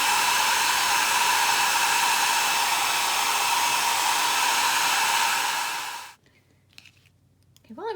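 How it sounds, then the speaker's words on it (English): A hair dryer blows steadily to dry fresh paint on small hand-painted mini magnets, a loud continuous whirring hum that cuts off near the end and leaves brief quiet handling noises. "Use the hair dryer if you want to speed things up."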